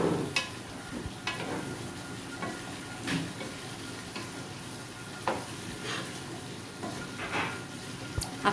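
Bottle gourd sautéing in a pan: a continuous hiss of frying with repeated scraping stirs of a spatula at irregular intervals, close and fairly clear, no talking.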